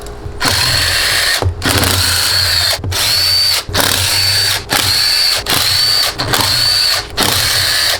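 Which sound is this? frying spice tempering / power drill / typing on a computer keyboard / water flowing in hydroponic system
power drill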